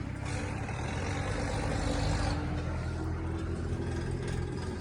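Xingtai 244 4x4 minitractor pulling away, a loud, close diesel engine rumble that holds steady throughout with a slight change in tone partway, no voices.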